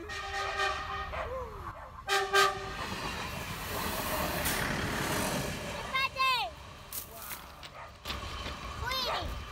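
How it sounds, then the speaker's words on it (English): A train rumbles past in Portugal's Algarve with clattering wheels and a couple of horn blasts, while people talk excitedly nearby. "train is coming"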